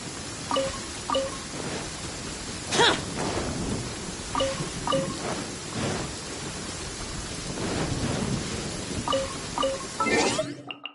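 Steady rain with rolling thunder in the video game Genshin Impact, a continuous wash of downpour broken by several loud thunder cracks and rumbles, with occasional faint voices beneath.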